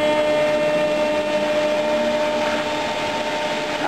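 Homemade electric car motor running on a high-voltage test setup, a steady whining hum with strong tonal lines that holds at an even, loud level throughout with no talking.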